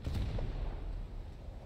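A battleship's ammunition rack detonates in the War Thunder naval game: a loud, sustained explosive rumble with heavy low-end booms and crackling blasts filling the whole short moment, no speech over it.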